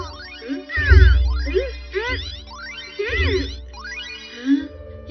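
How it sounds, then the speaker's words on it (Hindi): A cat meows in a Hindi-dubbed Doraemon cartoon, with several rising and falling cries over a busy soundtrack of tones and low thumps. "ये तो सुनियो की बिल्ली चीरू चीरू है ना?"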